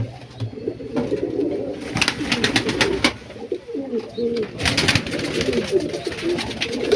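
Pigeons coo steadily in a loft while their pairs are being settled, soft throaty calls overlapping close by amid some rustling and clattering.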